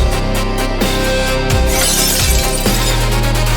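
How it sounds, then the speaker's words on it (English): Glass shatters in a dramatic sound effect, bursts of breaking and tinkling shards layered over a loud, dense backdrop of tension and action. "Pieces of glass are flying everywhere."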